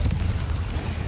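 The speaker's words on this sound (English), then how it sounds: "Confringo!" The Confringo blasting spell in Hogwarts Legacy, heard as a dense, heavy rumbling explosion that stays loud and constant through a very short moment, with no voice over it.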